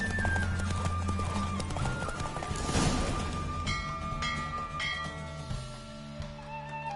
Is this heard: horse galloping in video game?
yes